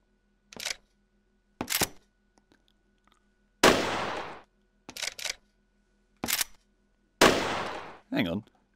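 Lever-action rifle fire in the VR shooting game Gun Club VR: six or so sharp, close reports spaced irregularly across several seconds, some with a longer ringing tail, separated by near silence and faint mechanical clicks.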